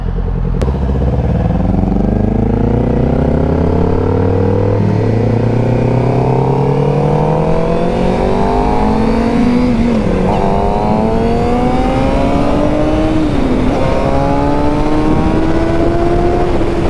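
Kawasaki Ninja 400 motorcycle with a Leo Vince exhaust, loud and close, revving and accelerating through repeated rising gear pulls on the street, each climb in pitch followed by a shift.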